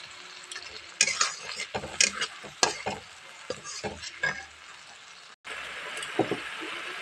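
Turmeric-laced spice paste frying and being stirred in a pan while cooking sutki fish, a steady close sizzle punctuated by repeated scraping stirs and light utensil clinks, with no talking.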